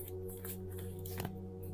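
Tarot cards being shuffled, a dry riffling patter running steadily over a low steady hum, with one sharper snap near the middle.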